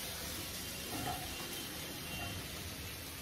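Fried masala sizzling in a pan as potatoes go in, giving a steady, even hiss of frying throughout with no talking.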